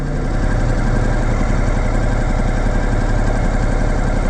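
A Ducati Multistrada Enduro 1200 motorcycle engine runs steadily on a dyno, a loud, continuous close-up drone with a fast, even pulsing throughout, no voices.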